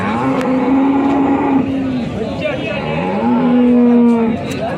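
Jersey cow at a busy cattle market lowing in two long, loud moos, with background crowd and vehicle noise.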